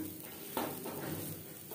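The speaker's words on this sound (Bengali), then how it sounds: "অনবরত নাড়াচাড়া করে পুর আমি" A vegetable filling being stirred and dry-fried in a pan, a quiet hiss with a sharp scrape of the spatula partway through, close and faint with no talking.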